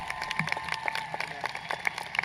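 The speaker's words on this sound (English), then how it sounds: "A round of applause for these remarkable students." Applause from a crowd honoring graduating students at a high school commencement, a steady patter of many hands clapping at moderate distance, filling the hall with a few brighter sharp claps standing out.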